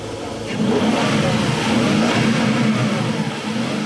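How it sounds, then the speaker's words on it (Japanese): A restored Nissan Cima, with its engine reassembled and newly rewired, catches after a brief moment and settles into a loud, steady, close-up rev that holds through the end. "エンジン始動。"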